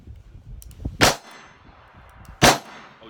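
Two sharp gunshots from a double action revolver, about a second and a half apart, loud and close with a brief ring after each, over a low background rumble.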